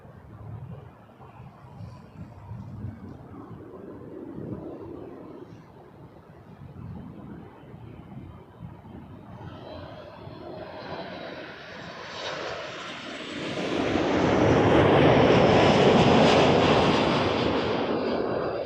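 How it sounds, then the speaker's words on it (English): Air Canada Boeing 737 Max 8 airliner landing at Toronto Pearson, its engine roar rising from a distant rumble to a loud, broad pass near the end. "Max 8 coming in from Fredericton, Air Canada,"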